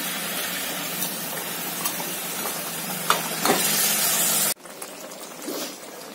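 Katol fish and torn green chillies cook in a pot, giving a steady sizzling, bubbling hiss with a few faint clinks, before it cuts to a quieter simmer.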